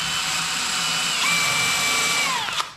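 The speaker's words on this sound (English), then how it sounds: "I'm gonna drill down in it at a slight angle." A power drill bores into wood at a slight angle while building a farmhouse-style end table, giving a close, loud, continuous whine that rises in pitch partway through and stops abruptly at the end.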